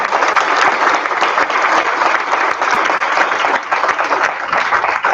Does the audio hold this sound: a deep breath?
no